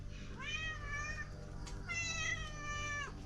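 A male cat gives two drawn-out meows in quick succession, faint and somewhat distant against a low background hum.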